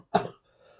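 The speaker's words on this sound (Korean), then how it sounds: "감기 기운이 있어가지고 자꾸 기침이 나옵니다." One short, sharp cough from a man with a cold, close and fairly loud, then quiet with faint room tone.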